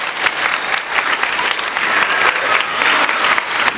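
Audience applause for a school director, Fritz A. of Collège Saint Gabriel, after his speech: dense, steady clapping from a crowd, fairly loud and sustained throughout with no voice on top.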